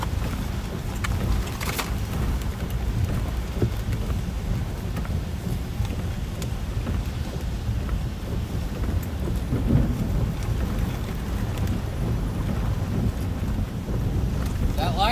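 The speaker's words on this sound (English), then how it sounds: "It's a little too much rain." Heavy rain pounds steadily through a storm chase, close and loud, with thunder and wind buffeting the microphone and faint voices under the downpour.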